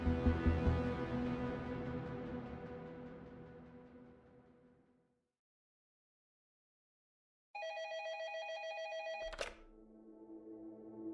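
An old-fashioned telephone bell rings in a desk office at night: a ringing burst that fades out, a few seconds of silence, then a second ring cut off by a thunk as the receiver is picked up.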